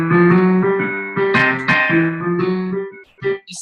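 Piano blues played with the four chord and one chord deliberately mismatched between the hands, sustained tonal chords moving in a slow rhythm and ending in a few short scattered notes.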